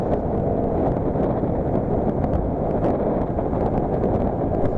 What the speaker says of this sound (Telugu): గాలి మాత్రం గట్టిగా వస్తుంది